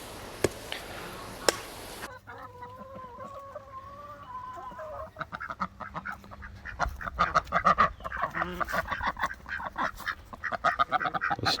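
Ducks, including a drake, quack in a backyard flock. Nasal calls come first, then dense overlapping quacks and clucks that build and grow louder, with a couple of sharp knocks at the start.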